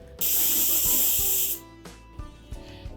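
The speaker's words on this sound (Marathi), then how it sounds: "चार शिट्ट्या झालेल्या आहेत आपण गॅस बंद केला आहे" A pressure cooker cooking dal on a gas stove lets out one loud, sharp blast of hissing steam lasting just over a second. Faint clicks and light kitchen knocks follow.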